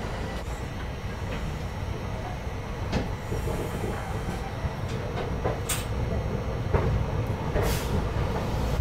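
The Coromandel Express, running with ICF coaches after leaving Shalimar station, rolls along the rails with a steady loud rumble from inside the carriage and scattered clicks and clanks from the wheels.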